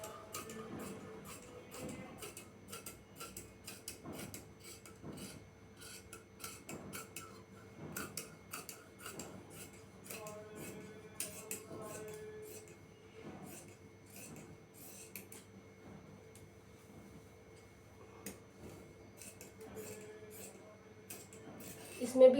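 Scissors snipping through cloth along a drafted pattern for a plazo, a quiet, close series of crisp cuts in an irregular rhythm with faint rustling between strokes.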